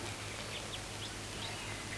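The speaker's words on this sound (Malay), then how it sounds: "2 ekor anak itik yang baru menetas" Two newly hatched ducklings, a male and a female, give faint high peeping chirps over a steady low hum.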